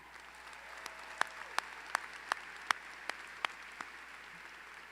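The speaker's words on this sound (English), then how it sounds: "How about another round of applause for Emily for singing to the national anthem" About ten scattered, separate handclaps sound at a university graduation ceremony. They are faint and spaced irregularly over a quiet room tone, with no full burst of applause.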